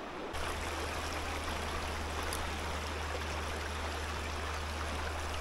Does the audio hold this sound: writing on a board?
no